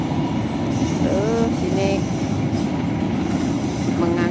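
A freight train hauling Pertamina oil rumbles past close by near a roadside hut, loud continuous rolling of wagons with brief wheel squeals, and someone speaks briefly over it.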